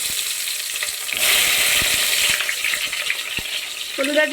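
Onions are dropped into hot oil with whole spices in a clay pot, bringing a loud surge of close frying sizzle with a few stirring knocks, steady throughout, and a short voice near the end.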